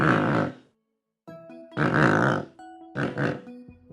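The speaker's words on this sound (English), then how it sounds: "Pelican." A pelican makes deep, grunting, guttural calls in three rough bursts, loud and close, with faint tonal chirps between them and no talk.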